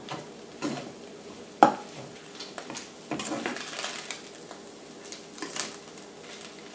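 A spoon scrapes and stirs sausage and flour gravy in a pan, with a soft sizzle underneath, one sharp clank of metal and intermittent scraping strokes.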